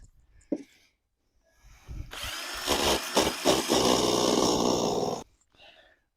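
A tool squares off and chamfers the cut end of a plastic waste pipe with one sustained grinding, scraping run of about three seconds, framed by quieter handling knocks before and after.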